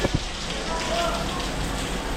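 Heavy rain pours down in Malir, Karachi, a dense, steady hiss of drops on surfaces with a couple of sharper taps at the start.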